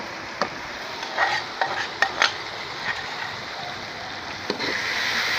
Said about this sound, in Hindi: हमारा हो रहा है प्याज ब्राउन, मसाला बन रहा है।